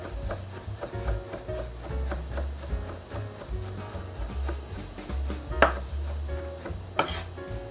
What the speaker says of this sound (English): I have here some green olive, rough chop.